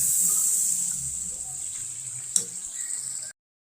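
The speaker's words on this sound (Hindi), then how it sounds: "अब हमने इसे भूनना है।" Chicken kadai masala sizzling as it fries in a pan, a steady close hiss that fades slightly over time, with a brief clink of a utensil near the end before the sound cuts off abruptly.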